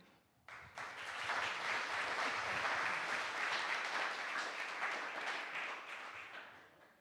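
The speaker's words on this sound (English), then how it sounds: "please give a warm applause for Paloma Oliveira" An audience at a tech conference keynote applauds the speaker, a dense, steady wash of many hands clapping that swells quickly after a brief quiet start and holds loud before easing slightly toward the end.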